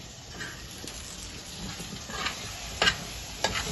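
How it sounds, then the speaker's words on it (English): A pot of Jamaican-style chicken curry is stirred over the heat, a soft, low sizzle punctuated by a few sharper spoon knocks and scrapes against the pot. "I gotta stir the pot, okay?"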